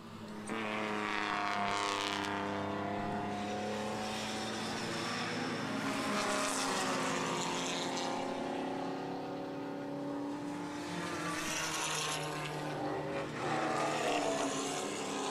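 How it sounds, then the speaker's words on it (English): A pair of BMW race cars running wheel to wheel at the O'Reilly Auto Parts Grand Prix, engines droning and rising in pitch as they pass, continuous and fairly loud with a shifting, overlapping roar. "Pair of BMWs going head to head and wheel to wheel"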